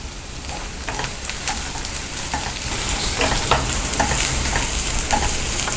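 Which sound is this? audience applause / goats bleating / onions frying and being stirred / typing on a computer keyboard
onions frying and being stirred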